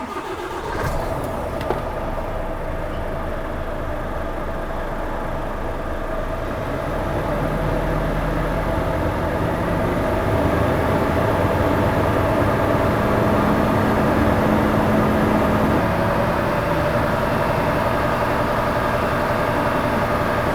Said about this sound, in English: we can turn the engine on and allow the air to build back up